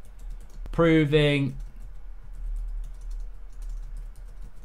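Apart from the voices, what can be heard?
typing on a computer keyboard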